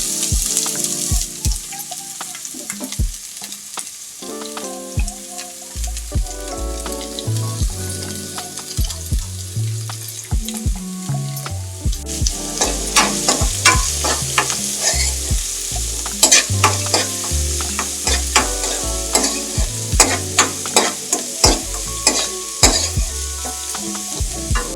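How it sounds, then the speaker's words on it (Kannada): Chopped onions go into a pan of frying radish leaves and sizzle steadily, a bright hiss with occasional stirring, while melodic music plays underneath the whole time. "ಈರುಳ್ಳಿ ಹಾಕ್ತಿದ್ದೀನಿ"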